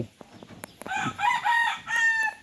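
A rooster crows loudly and close by in a cleaned former pig pen being readied for laying hens, the long crow rising and holding after a few sharp clicks and knocks, with little else around it.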